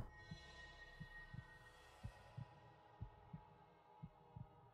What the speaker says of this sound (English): the heartbeat in the soundtrack does not help either